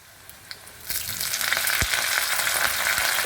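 Ginger and curry leaves drop into hot oil, setting off a sudden loud sizzle that builds and holds steady, with faint crackles before the burst.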